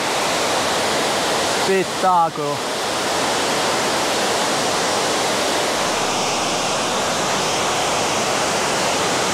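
The Stroppia waterfall in Italy roars as a steady, loud wash of rushing water throughout, with a person briefly speaking over it near the start.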